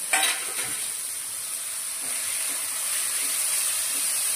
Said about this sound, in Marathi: कांदा टोमॅटो भाजायलाच नाही द्यायचा, ती थोडा तेलामध्ये परतून घ्यायचं.